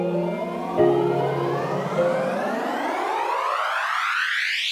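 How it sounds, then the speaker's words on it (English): Riser effect built from a keys loop in Ableton Live by sweeping an auto filter cutoff, a swelling synthetic tone that glides steadily upward like a siren over several seconds, loud and alone. "So now we get a cool riser sound that sounds like this from our keys loop."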